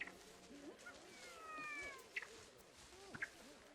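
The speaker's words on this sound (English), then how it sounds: "He's making little sad noises and they sound exactly like when the little baby kitties make sad noises." A baby ape in Planet Zoo gives faint, thin, kitten-like whimpering calls, several short sad cries scattered over a quiet ambient game background with soft chirps.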